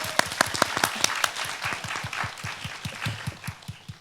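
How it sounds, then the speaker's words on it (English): Audience at a university talk on health and food clapping in a steady burst of applause, dense and fairly close, gradually thinning toward the end. "Let's give a round of applause for that one."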